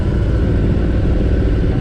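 2023 Harley-Davidson Heritage Classic motorcycle engine while riding: a loud, steady low rumble throughout the short stretch, with no voices.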